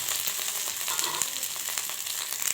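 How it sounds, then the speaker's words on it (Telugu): Pieces of okra fry in hot oil in a pan, giving a steady close sizzle with soft crackling throughout. "చూడండి, ఇలా చక్కగా బెండకాయ ముక్కలను అయితే వేయించుకోవాలి."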